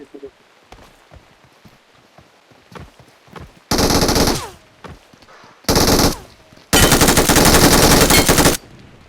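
Loud automatic gunfire bursts out in a PUBG Mobile ranked match, three long rattling volleys with gaps between them, the last the longest, while players talk quietly beforehand amid soft clicks and footsteps.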